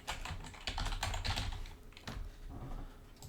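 Typing on a computer keyboard: a quick, irregular run of close, light key clicks in short bursts, alone and fairly quiet.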